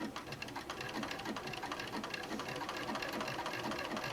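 A sewing machine stitches along the edge of a fabric applique on a dinosaur panel quilt top. It runs in a steady, quiet, continuous mechanical whir with a rapid needle rhythm and no voices.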